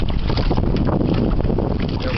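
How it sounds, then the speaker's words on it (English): Strong wind buffeting the microphone out on a lake from a bass fishing boat, a loud continuous roaring rush that fills the whole clip with no break. "Wind's really blowing now."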